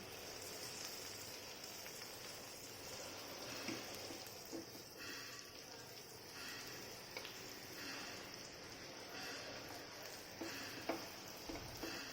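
Prawns roast on a hot griddle pan with a soft, continuous sizzle and light crackle, faint and even throughout, with no voices.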